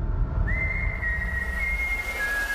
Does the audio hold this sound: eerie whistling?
yes